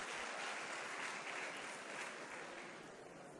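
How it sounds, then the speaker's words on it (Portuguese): Audience at a motivational talk applauding a group who won a book, a dense, steady wash of clapping that holds throughout and thins slightly toward the end, heard from within the room. "Um aplauso para a galera que conseguiu o livro aí."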